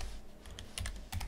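Quiet, close computer keyboard typing while entering test code, a handful of soft key clicks in short irregular clusters with brief gaps, no speech.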